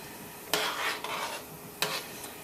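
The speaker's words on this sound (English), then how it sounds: "I'm going to give it another stir before I add turmeric to it" A spoon stirs split pea dhal in a pot, giving two or three sharp scraping knocks against the pot over a steady soft bubbling hiss.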